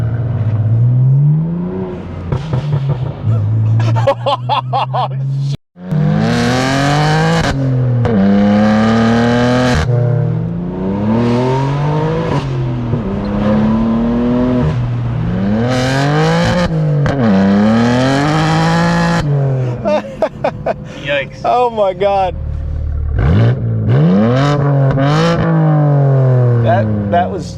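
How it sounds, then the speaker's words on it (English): A loud BMW G80 M3 engine revs up and down repeatedly with crackling exhaust pops and bangs between pulls, and a person exclaims briefly over it. "That was a lot of banging and popping."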